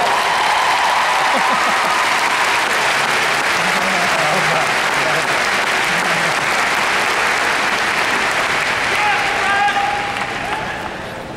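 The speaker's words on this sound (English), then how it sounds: "Give yourself a round of applause." Graduates applauding at a Seton Hall University graduation ceremony, a loud, sustained roar of clapping from a large crowd in a big space, with faint voices mixed in, easing slightly at the end.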